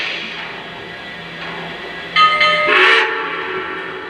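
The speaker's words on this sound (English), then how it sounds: "the locomotive will tell you that it's entered sequence control mode by sounding 2 bells and a short whistle" Model locomotive in sequence control mode sounding two bell strikes and a short whistle, a brief bright burst near the end over a quiet steady hum, close and clear with no talk.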